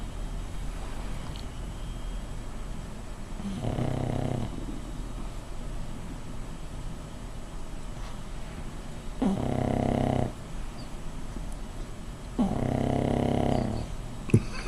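A sleeping dog snores in three long, rasping breaths with quiet stretches between them, close and fairly loud against a low background hum.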